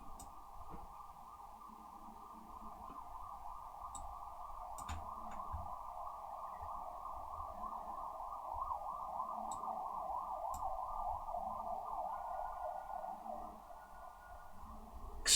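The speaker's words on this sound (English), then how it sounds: "Fierce ambulances in Budapest." An ambulance siren wails on a Budapest street, a steady wavering tone held throughout at moderate distance with faint background clatter.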